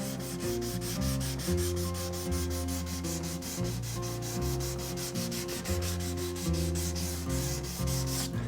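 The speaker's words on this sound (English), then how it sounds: "with this fine grit sandpaper, make sure you clean it regularly." Fine grit sandpaper rubs back and forth over a wooden guitar neck in quick, even strokes, a close, dry scratching rhythm with no voices.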